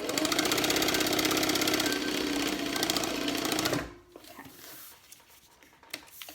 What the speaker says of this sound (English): I just want to back stitch, that way it's just a little bit more reinforcement